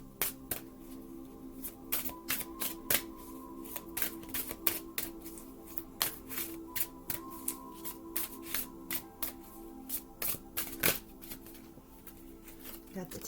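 Tarot cards are riffled and snapped down in a quick, uneven run of close crisp flicks and slaps, with faint steady background hum and no talking over them.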